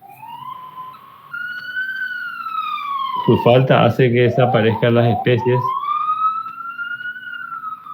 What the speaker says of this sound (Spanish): Hay una ambulancia en algún lado.